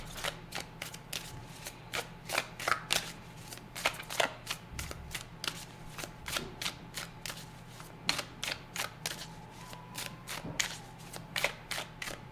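Tarot cards being shuffled in a steady stream of crisp, close riffling clicks and soft slaps, repeating irregularly throughout over a quiet room hum.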